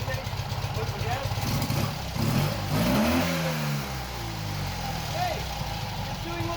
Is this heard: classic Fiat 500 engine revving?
yes